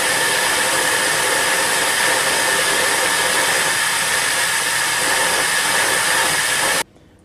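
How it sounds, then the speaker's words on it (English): An EXAIR Super Air Amplifier blows compressed air in a loud, steady broadband hiss and rush that holds evenly for several seconds, then cuts off abruptly near the end. "As I remove the blockage, the surrounding air is able to be entrained again, which results in a much larger flow and velocity."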